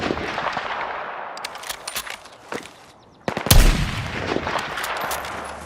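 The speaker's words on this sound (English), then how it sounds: "gunfire whizzing and cutting through smoke and debris as mayhem ensues around you with regularity" Gunfire in the Battlefield 6 campaign amid smoke and debris: dense crackling rifle and machine-gun bursts with a sharp loud blast near the middle, continuing as chaotic battle noise.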